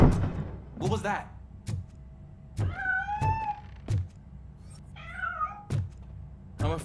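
In the video game Robocop: Rogue City, a cat gives two or three clear, drawn-out meows, interleaved with heavy mechanical thuds and footsteps, loud and close.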